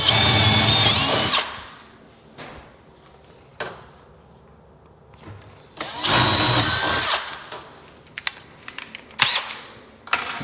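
A power drill with a 3/8-inch bit whirs in two loud bursts while boring holes in a cabinet, with quieter handling clicks and knocks in between.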